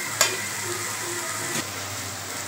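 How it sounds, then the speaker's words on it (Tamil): Onions and spices for a Tamil-style dried fish curry sauté in hot oil, giving a continuous close sizzle with a couple of brief clinks and stirring scrapes. "இது எண்ணெயிலே ஒரு 2 நிமிஷம் நல்லா வதங்கிட்டாங்க"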